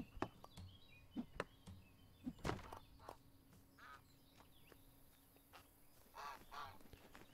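Geese in the Everdream Valley farming game give several scattered honks and squawks, some near and some farther off, over quiet background.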